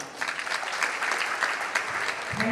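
At a school alumni meet in Begusarai, an audience applauds a performer with a steady wash of clapping from a crowd, moderately distant, with a low tonal hum entering near the end.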